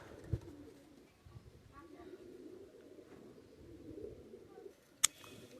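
Pigeons for sale in a pigeon shop in Khulna, with faint low coos and rustling under steady room noise and a soft voice, plus a sharp click near the end.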